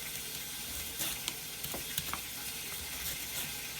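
A roast sears in a pan, giving a continuous quiet hiss and crackle with scattered sharp pops and spatters, no one talking.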